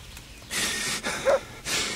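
A game character in Kingdom Come: Deliverance snorts and pants mid-fight, with three or four sharp breathy huffs in quick succession and a short strained vocal gasp between them, close and fairly loud.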